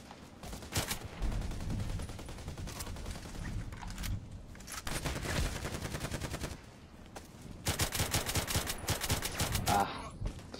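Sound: KelTec RFB rifle gunfire in Contract Wars video game

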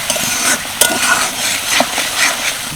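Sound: spice masala being fried (koshano) in a pan

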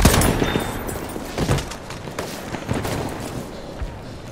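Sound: enemy machine gun fire

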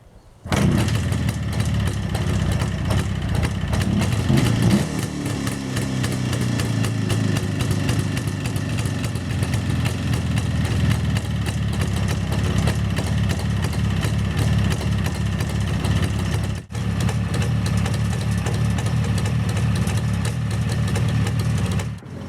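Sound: Jawa 350 motorcycle engine starting and idling

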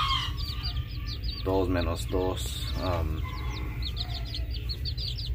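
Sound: chicks and chickens clucking

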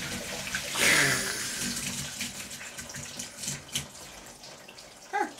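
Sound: water draining from an off-grid water system

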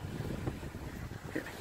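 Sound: wind blowing into microphone

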